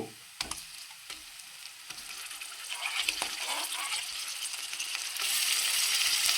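Pieces of liver hit a pan of browned onion pieces for a liver curry, setting off a few clicks and then a growing, steady sizzle of frying that fills the rest of the moment, close up and alone.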